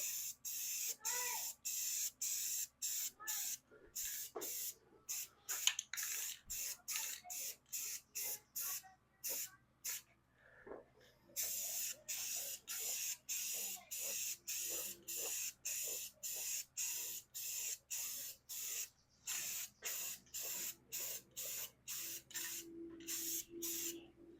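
A spray gun lays paint onto a car bumper in repeated short hissing bursts with brief gaps between passes, applying a slightly heavier coat, close and fairly loud.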